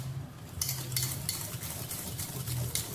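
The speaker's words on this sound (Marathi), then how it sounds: "आपल्याला तूप आणखी साखर फेटून घ्यायचे" Ghee and sugar are beaten together in a bowl for nankhatai, giving rhythmic scraping and stirring strokes about every half second, close and fairly soft, with no voices.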